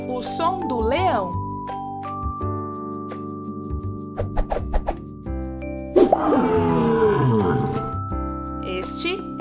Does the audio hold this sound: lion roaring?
yes